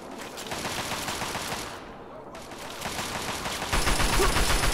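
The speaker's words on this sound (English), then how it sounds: "Well, I'm being shot at, so we must be in the right place." Gunfire aimed at the player in Fallout 3, rapid automatic bursts rattling close and loud, a brief lull, then heavier sustained shooting toward the end.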